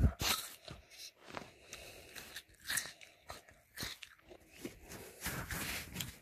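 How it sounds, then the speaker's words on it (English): Crisp, close crunches of teeth biting into a raw apple, a few separate bites with chewing in between, recorded intimately for ASMR with no talking. "next up we have an apple. So, hear the crunch, guys."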